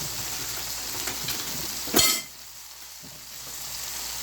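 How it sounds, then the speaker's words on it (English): Ground meat browning in a pan with steak sauce for a stuffed pepper casserole, a soft steady sizzle broken by one louder scraping burst near the middle, then quieter frying. "So we're just going to brown it."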